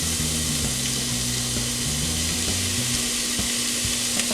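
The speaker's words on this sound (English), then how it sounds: "We're going to throw it in there and start browning it up." Ground meat browns in a pan with onions, garlic and olive oil, giving a loud, steady sizzle throughout, with a faint low tonal backing underneath.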